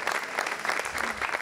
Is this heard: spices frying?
no